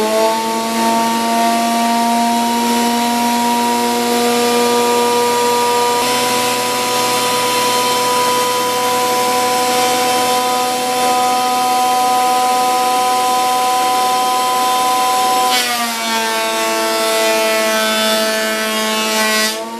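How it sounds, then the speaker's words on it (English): A very loud power planer screams steadily as it shaves down a board for a gun wall mount, its high whine holding constant, then dropping in pitch briefly as the cut changes. "I'm going to plane it down and chop off the ends"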